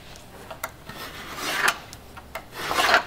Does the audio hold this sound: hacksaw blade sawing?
yes